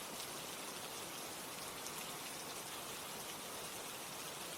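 Steady, dense rain falls evenly, with a constant broadband hiss and patter that stays at the same moderate level throughout, with no breaks and no voices.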